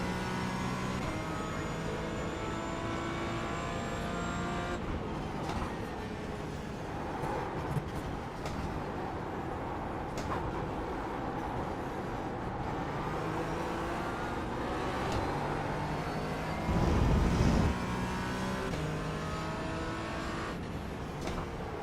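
Race car engine in Gran Turismo 4 played in VR, a continuous high revving drone that climbs and drops through gear changes over about twenty seconds, with other cars nearby and a brief louder thump near the end.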